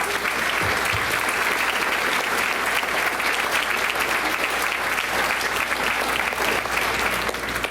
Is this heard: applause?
yes